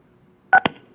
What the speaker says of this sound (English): follow the prompts to unmute by pressing *6